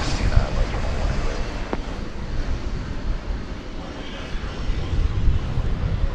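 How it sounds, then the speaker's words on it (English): An American Airlines Airbus A321 arriving at DFW Airport from Atlanta produces a steady, moderately loud engine rumble with some wind buffeting, and a voice speaks briefly over it. "We're going to see American Flight 2403 and Airbus A321 coming in from"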